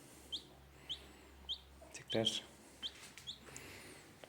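Several short, high chirps repeat at irregular intervals over a low, steady background hum, with a brief louder burst of noise near the middle.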